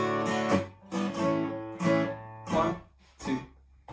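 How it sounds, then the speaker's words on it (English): A short acoustic guitar introduction to the folk song Exmoor Ram plays as about five strummed chords at a steady, unhurried pulse, each ringing out clearly and alone before the next. "I'm going to give you a little guitar intro, it sounds like this."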